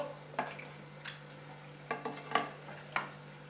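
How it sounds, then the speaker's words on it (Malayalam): Spoon stirring chicken biryani gravy in a cooking pot: a few faint scraping clinks and knocks spaced irregularly over a steady low hum, with no talking. "പക്ഷെ ഒന്ന് കുറച്ചൊന്ന് ഇളക്കി കൊടുക്കണം, എന്നാലല്ലേ ഗ്രേവിയൊക്കെ പിടിക്കുള്ളൂ."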